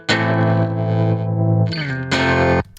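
A region in Logic Pro X plays back with a gradual volume fade-in, giving a bright, distorted sustained electronic tone with dense harmonics, a pitch shift near the end and a final loud burst before it cuts off.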